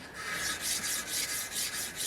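Strips of 400-grit wet and dry paper glued to a stick rub back and forth over the freshly filed faces of a stainless steel bar for a car emblem. Several soft, rhythmic strokes sound close by, with no talking.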